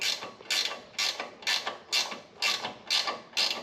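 Hand ratchet tightening Mishimoto oil cooler fittings on a 2015+ Subaru WRX STI with a front-mount intercooler: seven or eight even, crisp clicking strokes at a steady rhythm, close and loud, with no talk.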